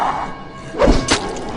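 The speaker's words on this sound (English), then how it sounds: "So let's see if I can get him with the sticky bomb." In a zombie video game, a sticky bomb goes off on a zombie with a sudden heavy thud and a crunching burst, followed by a quick second impact, loud and close.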